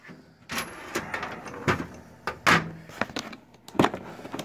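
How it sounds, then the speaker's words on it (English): Metal drawer of a cabinet under a Grizzly G0602 lathe sliding open, with several short scraping slides and clunks in quick succession, close and fairly loud. "I'm going to use this drawer."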